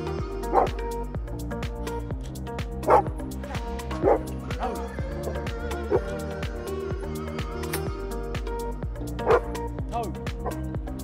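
A hunting dog retrieving a duck during a New Zealand duck hunt in South Taranaki gives repeated yips, barks and whimpers, close and fairly loud, spaced a second or two apart over continuous background rumble, while a man calls to it.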